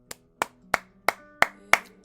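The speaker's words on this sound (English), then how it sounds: "A round of applause to me." A single pair of hands claps six times in an even, unhurried rhythm, each clap sharp and close, over a faint steady musical hum.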